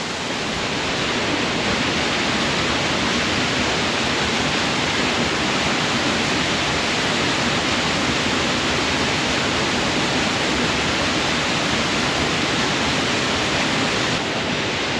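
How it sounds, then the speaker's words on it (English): Waterfall deep in the Pyrenees mountains, a dense, steady roar of falling water that fills the whole clip at constant loudness, close and continuous with no voices over it. "A waterfall in the middle of the Pyrenees mountains."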